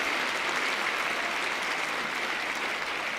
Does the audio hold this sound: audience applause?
yes